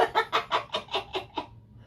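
A chicken clucks close by in a rapid run of about eight sharp, evenly spaced clucks that trail off at the end, with nothing else over them.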